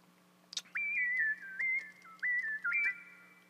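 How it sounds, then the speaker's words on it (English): A clear whistled melody sample for a trap beat, several short sustained notes rising and falling in a simple repeating melody, with no voices. "Yada yada, it's a basic whistle"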